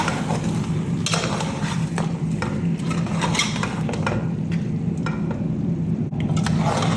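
Chicken frying with masala spices in a pan, a steady close sizzle with scattered clinks and stirring scrapes running throughout at an even level, no voices.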